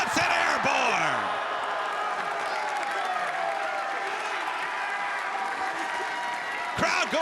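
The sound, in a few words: crowd cheering wildly for wrestler Lee Johnson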